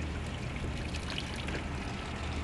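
Water pours steadily inside a truck cab kitchen, a continuous splashing trickle that stays close and fairly loud throughout with no talking.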